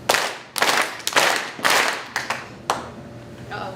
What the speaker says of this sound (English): Practice it Just once. the clapping.